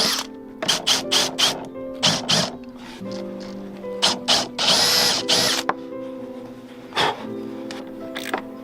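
Power drill driving bolts on a boat, with repeated short whirring bursts of varying length close by, one longer run in the middle and steady background noise between.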